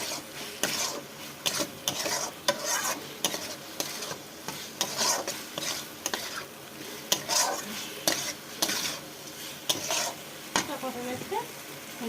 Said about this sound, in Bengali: খোসা ছাড়িয়ে রাখা তো আলুটা দিয়ে আমি কষিয়ে নেব